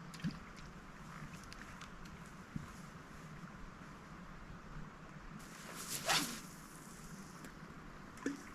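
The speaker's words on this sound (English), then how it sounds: "Now I want to close the zipper as fast as possible." A quick zipper pull on a camping sleeping shelter rasps once, short and close, against a steady hiss of outdoor wind and water with a few faint knocks before and after.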